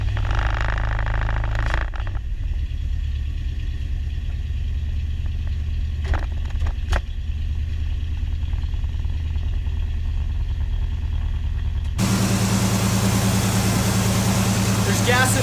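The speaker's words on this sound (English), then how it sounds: "So, the car took a while to start up." A 1976 Chevy Camaro engine runs at a steady, loud, low idle that holds throughout, then changes to a harsher, louder tone near the end, with no talking.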